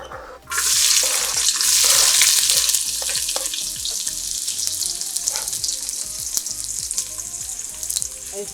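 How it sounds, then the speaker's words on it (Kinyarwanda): Onions hit hot oil with an abrupt loud sizzle that builds into a bright, dense frying hiss with crackles, then eases slightly while staying strong and close. "Tugiye gufata bya bitunguru byacu rero tubishiremo aya mavuta."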